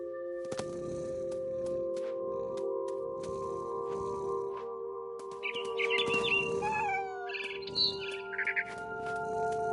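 Bright bird chirps and twittering calls from What Remains of Edith Finch come in short bursts in the second half over a sustained tonal game-music drone, with a few soft knocks earlier.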